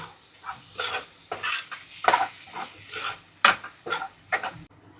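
Garam masala, Maggi masala, Kashmiri red chilli, turmeric and salt are stir-fried in a pan for paneer bhurji: rhythmic scraping strokes of a spoon against the pan over a soft, close sizzle.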